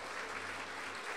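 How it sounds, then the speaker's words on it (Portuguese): A congregation at a divine healing church service applauds, a dense continuous wash of many hands clapping, loud and steady throughout. "Vamos aplaudir o Senhor Jesus."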